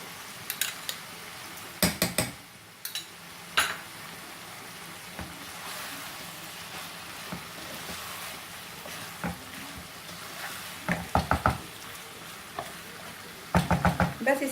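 Mutton keema stir-fried with tomato and yogurt in a pan, with a soft steady sizzle broken by sharp clusters of spoon scrapes and knocks against the metal, and a voice speaking now and then.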